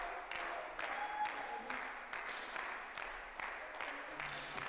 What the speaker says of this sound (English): Look, the spectators clap hands.